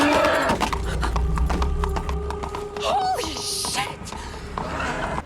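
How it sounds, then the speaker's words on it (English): A police horse's hooves clip-clop on the street in a steady walking rhythm, joined by a brief whinny partway through, with voices and background noise around it. "police horse?"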